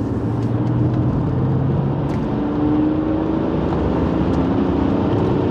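Steady, smooth straight-six BMW engine hum heard from inside the car while driving, a continuous low drone with road and tyre noise, evenly loud throughout with no voices.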